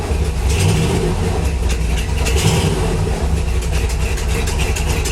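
A V8 engine swapped into a Porsche 911 settles into a loud, rumbling idle after being revved, its close, steady, throaty drone continuing without pause.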